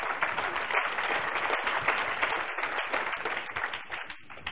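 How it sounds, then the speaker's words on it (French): An audience at a hospitality congress applauds a chef with full, dense clapping that holds steady and then thins and fades toward the end. "Thierry Marx, je vous demande de l'applaudir encore une fois."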